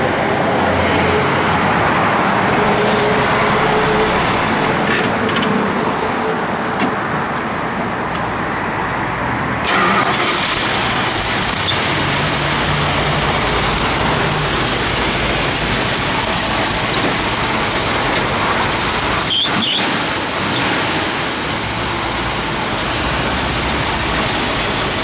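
A 1971 Dodge Challenger R/T runs steadily for an extended stretch, a loud, continuous engine rumble heard up close with no talking over it.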